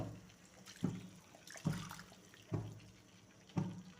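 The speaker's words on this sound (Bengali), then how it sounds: "এই মুহূর্তে আমি একটু পানি দিয়ে দিলাম" Water is poured into a cooking pot with some moong dal stuck to it. It comes as four splashy bursts about a second apart, fairly close and moderately loud, with no talking.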